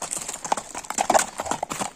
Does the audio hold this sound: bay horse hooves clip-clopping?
yes